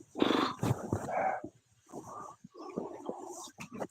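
A dog growls and grumbles in low, rough bursts close by, with short pauses between the rumbling phrases and brief yips near the end.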